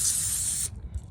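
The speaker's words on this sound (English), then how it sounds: "But we're going to grab our carb spray," Carburetor cleaner spray hisses in a steady close burst for over half a second while cleaning a Toro lawn mower's carburetor, then cuts off to faint handling noises.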